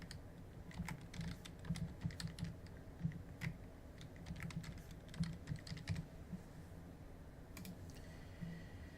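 Administrator password being typed on a computer keyboard during a Windows Server 2012 Core setup, a steady run of close, quick key clicks with short pauses between bursts and no talking.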